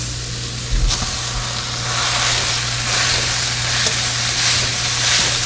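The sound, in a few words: ground beef sizzling and frying in a pan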